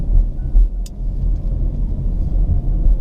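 A Mazda 2 city car drives along, its engine and road noise a steady low rumble heard from inside the cabin, without talk.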